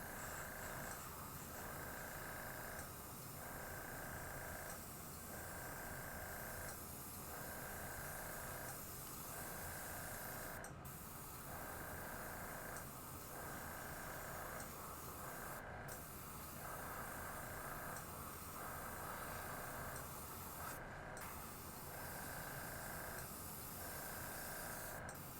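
Steady airbrush hiss sprays metallic true gold paint through hex mesh onto the back of a crackle belly minnow fishing lure, a continuous close spray broken by short rhythmic pauses and three brief sharp bursts.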